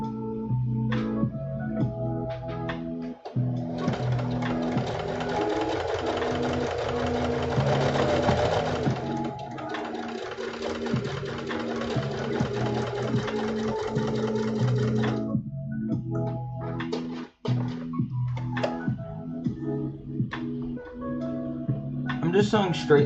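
A Singer heavy duty sewing machine top stitches fabric along curves for a symbiote suit, running in long bursts with short stops, close by, while a person talks over and between the runs.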